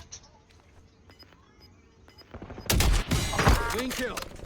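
Sniper fire in a shooter video game: after a quiet stretch with faint clicks, loud sharp shots and bursts of gunfire crack in close succession and fill the second half.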